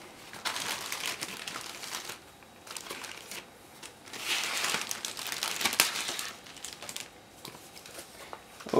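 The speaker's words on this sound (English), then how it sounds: "inside we find a bunch of sprues which are plugged into the same Ziploc bag. Just give me a second to open them." A plastic Ziploc bag holding model kit sprues crinkles and rustles as it is opened, with bursts of crumpling at close range rising and falling through the whole stretch.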